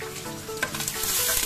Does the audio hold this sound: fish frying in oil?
yes